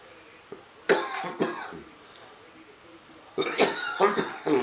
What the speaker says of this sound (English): Why is this cough past a couple of days?